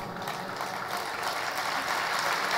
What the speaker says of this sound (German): ich glaube, das war euer Beifall.